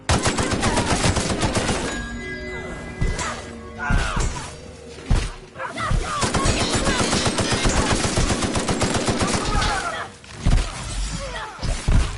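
Heavy automatic gunfire rattles almost continuously in a video game firefight, loud rapid shots punctuated by impacts and breaking glass, with only brief lulls between volleys.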